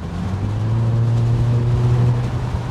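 A VW Eos 2.0 TSI drives at 100 km/h on a highway with its roof down, giving a steady low engine and exhaust drone mixed with wind and road rush, continuous and fairly loud throughout.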